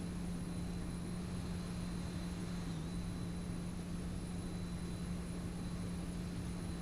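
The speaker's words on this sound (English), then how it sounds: "The APU." Auxiliary power unit of a JetBlue Embraer E195 jet in X-Plane, a steady, faint turbine hum with a constant whine, unchanging throughout and unaccompanied by voices.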